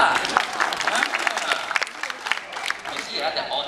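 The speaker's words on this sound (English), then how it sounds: "Then clap lah." Applause from an audience at a dog performance show, praising young boys handling the dogs: a lively, continuous round of crowd clapping with some individual sharp claps standing out.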